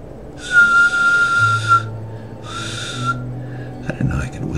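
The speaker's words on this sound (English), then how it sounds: "I didn't know I could whistle." A person whistles two sustained steady notes, the second shorter, close and clear, followed by a few breathy sounds and small noises.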